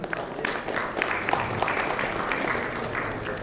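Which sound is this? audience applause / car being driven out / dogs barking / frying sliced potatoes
audience applause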